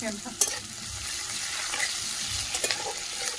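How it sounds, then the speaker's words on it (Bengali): Onion frying in a pan over a wood-fired clay stove, a steady close sizzle with occasional stirring scrapes and clicks, no talk. "পেঁয়াজটা ভাজা ভাজা হয়ে গেছে"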